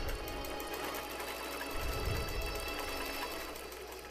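Sewing machine stitching a quilt guided along a quilting template, running in a steady fast mechanical whir at a moderate, even level for the whole stretch without pause; no speech.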